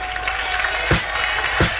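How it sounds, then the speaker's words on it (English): Applause from a live music audience as an act is announced, a steady broadband wash of clapping with two brief low thumps partway through. "please be upstanding and extend a warm round of applause"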